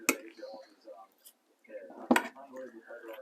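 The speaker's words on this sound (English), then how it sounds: "Might actually get a big spoon and give it a stir, not put the lid on and stir it and shake it up." A big spoon stirs potato and celery salad in a bowl, giving a few scraping clinks in two short bursts with a quiet gap between, close up.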